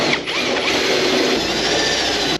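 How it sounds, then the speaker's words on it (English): A step drill bit grinds through car body metal on a Firebird deck lid, enlarging a hole to 3/8 inch with a steady, loud, close whine that cuts off at the end. "my step bit and just enlarge these holes out to 3/8"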